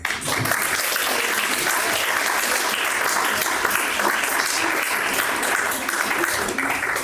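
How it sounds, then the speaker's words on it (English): A crowd applauds the finalists of a university research-presentation competition, a steady, dense wash of clapping that holds evenly for about seven seconds with no break. "I'd like everyone to give again a round of applause for our candidates"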